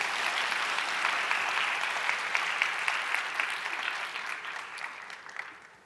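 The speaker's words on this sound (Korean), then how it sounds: "박수 한번 나와야 되는데." Sustained applause from a church youth audience at a testimony event, a dense steady wash of many hands clapping that holds strong for several seconds then gradually fades out.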